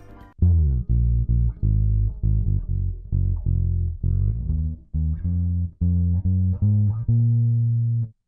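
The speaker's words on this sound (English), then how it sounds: "The bass was played by me live" A live-played bass guitar plays a melodic line of plucked notes, steady and prominent, with some sustained tones near the end; no voices.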